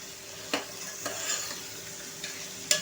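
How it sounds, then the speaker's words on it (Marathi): Ridge gourd frying with tomato in an oiled pan hisses softly and steadily while a spoon stirs it, giving a few distinct scraping knocks against the pan. "हे पहा, आपला दोडका फ्राय होतोय ना"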